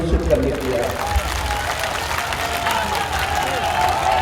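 Crowd applause rolls through a political rally in Purnia, Bihar, a dense continuous roar of clapping and crowd noise at close range, with voices mixed into the din.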